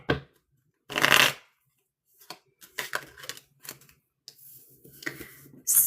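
Playing cards are shuffled for a card reading, with a loud riffle burst early, then scattered softer taps and card flicks; a faint voice murmurs briefly near the end.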